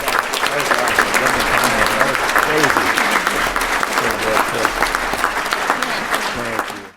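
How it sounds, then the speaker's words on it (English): A roomful of volunteers and guests at a youth sports recognition breakfast claps in a steady, dense round of applause lasting several seconds, fairly close and loud. "please give yourselves a big round of applause"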